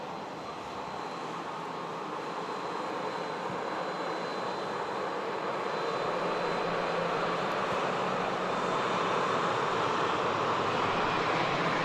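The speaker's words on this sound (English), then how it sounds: "Just arriving in from the Isle of Man, ATR 72 from Loganet." An ATR 72 turboprop arriving from the Isle of Man at Manchester Airport, its engines a broad continuous roar that holds steady and swells slightly louder as it approaches, with no voices.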